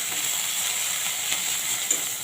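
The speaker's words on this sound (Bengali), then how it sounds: "আদা রসুনটাকে ভেজে নেবো যতক্ষণ না কাঁচা গন্ধটা আসছে।" Ginger, garlic and chili paste frying in a pan for an egg and potato bhapa curry, giving a steady, close sizzle with faint stirring, one small clink near the end.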